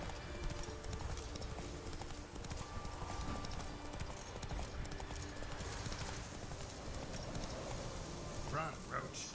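Roach the horse galloping in The Witcher 3, rapid hoofbeats clip-clopping steadily throughout, with a brief whinny near the end.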